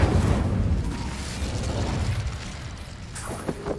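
Incendio fire spell in a Harry Potter video game, a short burst with a whooshing, rumbling flare that fades out, followed by light magical clinks near the end.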